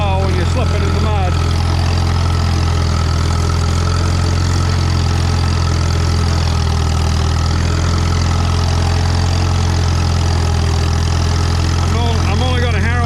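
A Farmall M tractor engine labors steadily while slipping in mud during harrowing, a loud, constant low rumble with strong deep throb throughout, with someone speaking over it.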